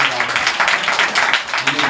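Congregation claps for the Lord at a church gathering, a dense, steady wash of many hands lasting the whole two seconds without pause.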